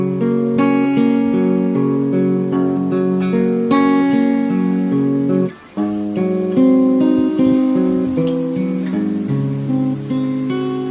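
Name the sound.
guitar playing chord pattern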